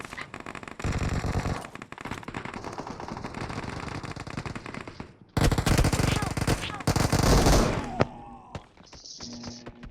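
Rapid automatic gunfire from a shooting video game blasts in long dense bursts, loud and continuous, pausing briefly before another heavy stretch of fire, then tapering off near the end.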